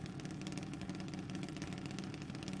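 Drag race car engine idling at the line before a junior race, a steady, rough rumble with fast, even pulsing, heard from a moderate distance with no voices.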